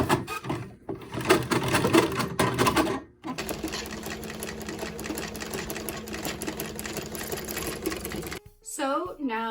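Antique treadle sewing machine, roughly a century old and revived with heavy oiling, runs with a steady mechanical whir and rhythmic clatter for several seconds; a voice speaks briefly before it, and a different tone follows at the end.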